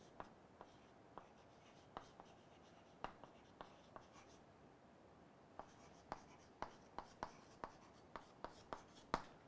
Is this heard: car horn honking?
no